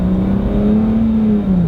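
Car engine revving through a straight pipe exhaust with muffler and resonator deleted, a loud, close, raspy drone that holds steady, rises slightly and then eases back, with no talking.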